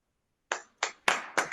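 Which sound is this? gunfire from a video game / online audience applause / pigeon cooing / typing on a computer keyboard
online audience applause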